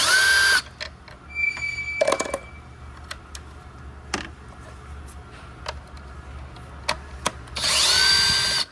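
A power tool runs in two loud, close bursts at the start and end while removing bracket bolts on a BMW M2 S58 engine, with scattered clicks and taps of work between them.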